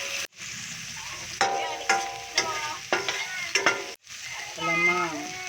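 Shrimp with garlic, onion and ginger sizzles in a pan for ginataang langka, with repeated stirring scrapes and clatters breaking through a steady frying hiss, close and moderately loud, no voices.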